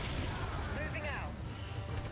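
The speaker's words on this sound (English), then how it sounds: "Ion cannon activated." A heavy sci-fi ion cannon blast from the game C&C Rivals roars through steady rumbling noise, with a brief sweeping electronic whine in the middle.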